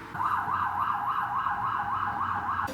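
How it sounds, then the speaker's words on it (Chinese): An emergency siren, from a fire engine or ambulance, passes outside a 16th-floor apartment in Seoul. Its wailing tone rises and falls in a steady rhythm and comes through the walls clearly and fairly loudly. "但是如果有比如说消防车或者是救护车经过的话， 那个声音就会非常的明显"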